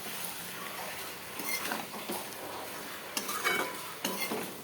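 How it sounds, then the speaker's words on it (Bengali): Metal utensil scraping and clattering in a wok as goat meat is stirred and sautéed, with a soft sizzle underneath and a few sharper knocks toward the end. "এটাকে ভালো করে কষাবো।"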